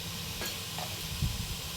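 Chopped carrots sauté in a hot pan for fried rice, a steady close sizzle with a few soft scraping stirs of the spoon, brief and without talk.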